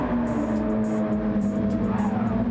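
Race cars roaring through a chicane at Le Mans in the racing game FlatOut, a loud steady engine drone with a sustained whirring pitch held close throughout, no talk.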